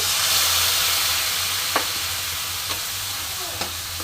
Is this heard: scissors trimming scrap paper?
no